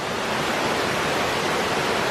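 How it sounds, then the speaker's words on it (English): A jungle waterfall in Thailand roars as a steady, dense wash of broadband rushing water, loud and close with no variation or voices over it. "Waterfall."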